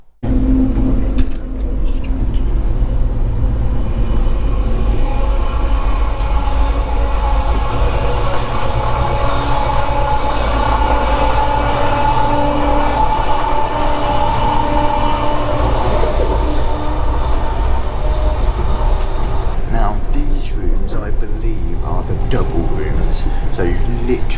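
Steady rumble and rattle of the Caledonian Sleeper overnight train from London to Glasgow running, heard from inside a carriage, a continuous loud drone with faint clicks and creaks, with a voice talking briefly.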